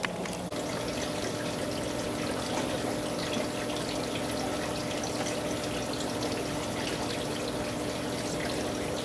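Water pours and trickles steadily out of a tropical fish shipping bag, a continuous close splashing flow with no talking.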